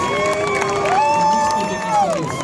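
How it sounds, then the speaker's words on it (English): Large football stadium crowd at a Spain–France match in Berlin, sustained roaring and cheering as a substituted player leaves the pitch, dense and continuous with a swelling rise near the end, no clear clapping detail. "Rapturous applause from the crowd."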